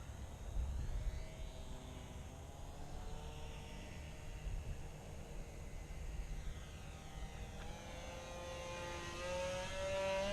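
A Nutball RC plane glides past at low throttle, its faint motor whir steady and distant for the whole stretch, rising slightly in pitch toward the end, with no talk.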